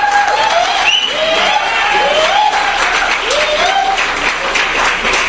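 Crowd at an under-19 cricket zonal final applauding the winning North Zone team, loud sustained clapping with a few whistles rising over it, dense and steady throughout.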